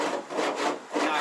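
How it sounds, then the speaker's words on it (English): A cheese grater body file shaves high spots off body filler on a Ram 1500 repair panel, giving three or four close, raspy back-and-forth strokes with a dry scraping texture. "I guess the slang term is a cheese grater"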